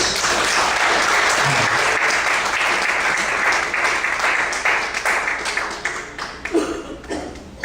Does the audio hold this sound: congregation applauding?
yes